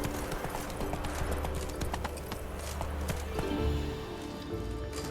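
Hooves of Roach, the horse in The Witcher 3: Wild Hunt, clip-clop in a steady trotting rhythm, fairly close and continuous over low game ambience.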